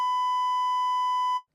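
An electronic device gives a single steady, loud beep held for over a second before cutting off abruptly.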